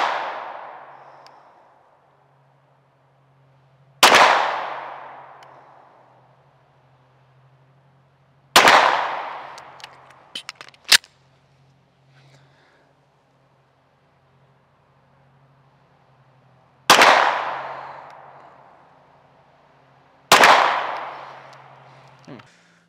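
Springfield Echelon pistol fired at a target from 25 yards outdoors: four or five sharp, loud reports several seconds apart, each ringing off in a short decaying tail, with a faint steady hum underneath.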